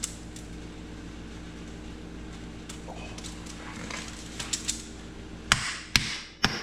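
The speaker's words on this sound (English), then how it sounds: "Shouldn't have to bang on them with a hammer." Rusted brake pads on a 2013 Kia Sorento being struck with a hammer during front wheel bearing work: a few light taps, then three loud, sharp metallic bangs near the end, over a steady low hum.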